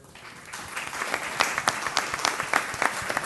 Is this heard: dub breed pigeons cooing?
no